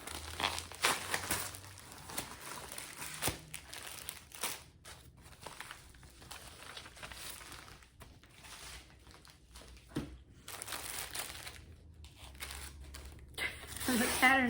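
A taped mail package of needlework patterns is opened, giving intermittent crinkling, tearing and rustling of packaging close by, in short irregular bursts with pauses.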